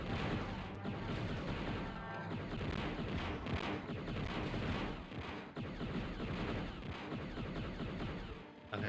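Enemy gunfire in the Star Wars Shadows of the Empire video game, a dense, continuous barrage of crackling shots and blasts that stays loud and busy from start to finish, with no talking.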